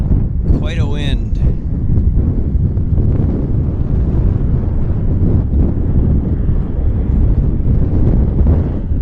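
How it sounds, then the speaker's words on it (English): Strong wind at Vancouver airport roars steadily and loudly across the microphone throughout, a dense continuous rumble, with a brief voice near the start. "Quite a wind now."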